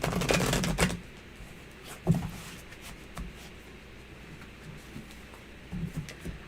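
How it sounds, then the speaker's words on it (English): A tarot card deck is shuffled nearby, giving a dense burst of riffling at the start, then scattered soft card taps and flicks at intervals. "I think this deck shuffles very well, too"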